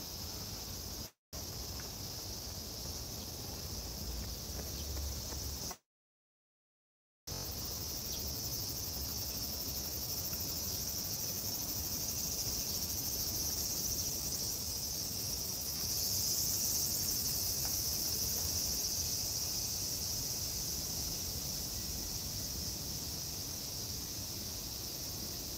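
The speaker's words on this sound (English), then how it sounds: "You can hear all the cicadas already." Cicadas droning by a river lined with sakura trees at Edogawabashi in Japan, a dense continuous high-pitched buzz that fills the whole stretch with only two brief dropouts and no talking.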